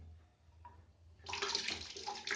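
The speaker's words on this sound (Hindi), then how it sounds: "ये देखिए अभी थोड़ा थोड़ा लाइन में का पानी निकल रहा है।" Water from a tap just opened on a line connected to an electric geyser starts to flow, first faintly, then suddenly gushing into a steady, splashing stream close by.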